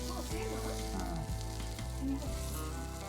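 Surmai (kingfish) slices fry on a hot tawa at an Udupi eatery, giving a loud, constant, close-up sizzle with a steady hum in the background.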